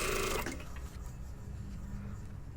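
A sewing machine runs in a fast burst stitching a jacket collar to its lining, then stops, leaving quiet handling noise.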